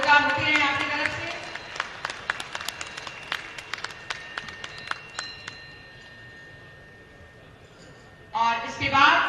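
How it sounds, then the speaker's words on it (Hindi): Scattered, uneven hand claps from an audience at a government benefit-distribution ceremony, sounding thin and spaced out rather than a full ovation, with a speaker talking before and after. "तालियां जोरदार होती रहे आपकी तरफ से।"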